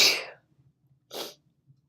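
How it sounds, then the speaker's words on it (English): A single close, loud sneeze bursts out at the start, then a short breathy exhale follows a moment later, with a faint low hum in the quiet between. "sneeze."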